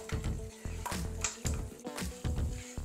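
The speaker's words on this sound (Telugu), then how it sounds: "ఇవన్నీ బాగా వేగాలి" Cumin, chana dal, urad dal and curry leaves frying in hot oil for a tempering, a repeated scraping stir punctuating a soft continuous sizzle, close and moderately quiet with no talk.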